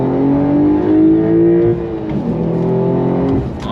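A Porsche 911 Carrera T pulls hard in second gear, its engine note climbing steadily and loud and close, then dipping briefly at a shift or lift before rising again, with no talk over it.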